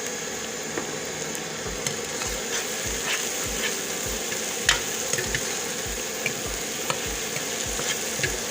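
Chopped onions hit a pan of frying garlic-ginger paste for a potato and radish pod curry, giving a steady close sizzle broken by regular scraping strokes as the mixture is stirred.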